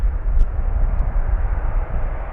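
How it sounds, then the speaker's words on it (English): A KLM Boeing 777-300 airliner arriving at Amsterdam Schiphol on runway 18R, a loud, steady low-frequency engine roar and rumble, close by and continuous throughout. "And also steadily coming along is KLM flight 592"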